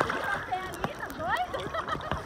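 Splashing and sloshing water at a lakeside beach on Lake Biwa near Hikone, Japan, as someone dives in, with chatter and voices talking throughout the short burst.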